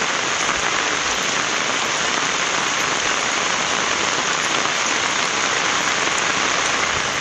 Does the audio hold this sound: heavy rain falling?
yes